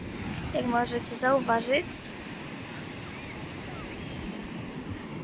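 Sea waves wash onto a beach in a steady, rushing roar mixed with wind noise, continuing alone after someone speaks briefly at the start.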